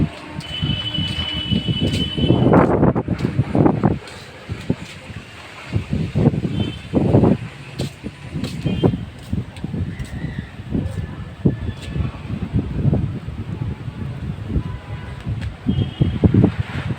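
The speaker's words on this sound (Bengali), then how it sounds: "বেশ ঠান্ডা ঠান্ডা হাওয়া দিচ্ছে" Cold wind blows outdoors after a storm, buffeting the microphone in loud irregular rumbling gusts across the whole stretch, with a voice briefly heard at times.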